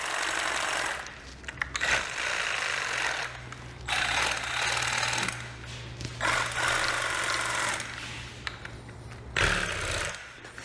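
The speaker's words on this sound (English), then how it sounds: "You can hear that ball rattling around in there." Spray can shaker machine shaking a can so the mixing ball rattles inside; loud, rapid mechanical rattling comes in repeated bursts separated by brief pauses, with a low motor hum underneath.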